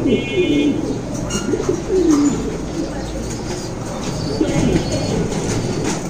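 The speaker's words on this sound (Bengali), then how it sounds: "লার্ক কবুতর মাসাল্লাহ খুবই সুন্দর" Lark pigeons cooing at a pigeon farm, soft low coos repeating in short phrases over a steady background hum, with faint chirps from other birds.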